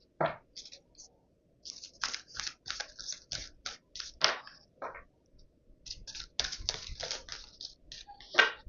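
Tarot cards being drawn and shuffled from a deck: a run of soft, papery flicks and slides in quick irregular bursts, close and fairly quiet, with short pauses between handfuls.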